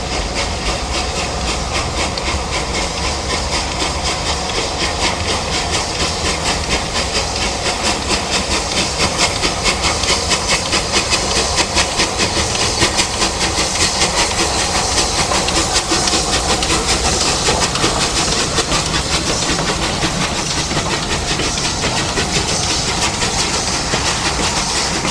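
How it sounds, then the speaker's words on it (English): A Bulleid steam locomotive restarts from a red signal at Woking in November 1997, producing a dense, unbroken roar of steam and exhaust with rapid rhythmic beats, loud and sustained throughout. "Mainline restarts from a red signal at Woking in November 1997, one of only two Bulleids to go straight from British Railways to preservation societies"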